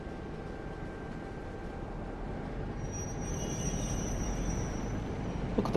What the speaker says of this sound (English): Got another train leaving somewhere.